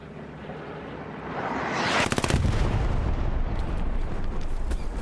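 Grenade blast in a video game battle on the Kharkov map: a loud close explosion with crackling bursts, followed by rumbling debris and scattered gunfire that fade slowly.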